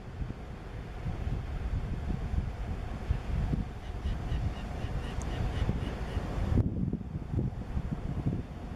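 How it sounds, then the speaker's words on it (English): Steady wind buffets the microphone in a low, constant rumble on a sea cliff, with occasional faint bird calls far off in the background. "Very windy."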